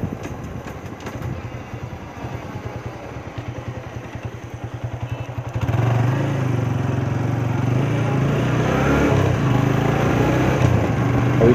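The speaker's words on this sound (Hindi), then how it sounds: "अभी बाइक का नॉइज़ भी कितना आ रहा होगा आपको आइडिया है" A motorcycle engine rumbles steadily with a rhythmic low throb while it is ridden. Partway through, the engine and riding noise swell louder and denser as wind joins in. No one speaks.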